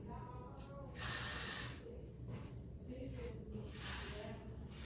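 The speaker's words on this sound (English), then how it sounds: "You want to spray some more glue on there?" Short hissing bursts of wig glue from a spray can, a long one early and another near the end, close by, with quiet voices talking around them.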